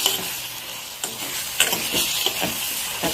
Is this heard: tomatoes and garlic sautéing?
yes